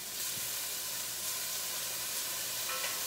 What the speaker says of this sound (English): In goes the celery.